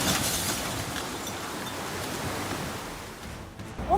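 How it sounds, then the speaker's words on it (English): Floodwaters in Connecticut rush and roar in a dense, continuous wash of churning water carrying mud and rotten wood past a collapsing house, steady and loud with a brief knock near the end. "Floodwaters swept through Connecticut carrying mud and rotten wood and washed away a collapsing"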